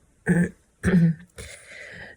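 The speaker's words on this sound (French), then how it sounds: "Je me remets à tousser comme une dingue" Three close, raspy coughs in quick succession, the last one drawn out and breathy.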